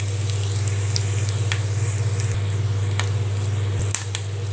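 Two dried red chillies drop into a kadai of hot oil already holding mustard seeds and urad dal, giving a loud, steady sizzle with scattered sharp pops and crackles throughout, and no talking.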